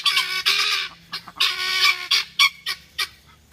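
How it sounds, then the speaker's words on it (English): Loud, harsh repeated calls from guinea fowl in a backyard garden flock kept with ducks, close by, coming in bursts of rapid chattering cries and ending in separate sharp squawks. "The guineas are so loud."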